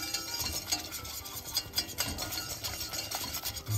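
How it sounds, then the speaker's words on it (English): A spoon or spatula stirs Japanese chicken curry roux with spices in a pan, giving a soft scraping and rubbing sound with a light sizzle, quiet and close. "Now we'll just stir it."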